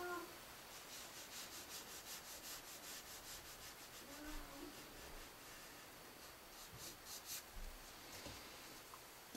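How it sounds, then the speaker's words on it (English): Soft, steady rubbing of a paper-stump tortillion blending pencil strokes across drawing paper, close and quiet, in a continuous scratchy texture with brief pauses. "I could come in with my tortillion. I'm not going to press too hard."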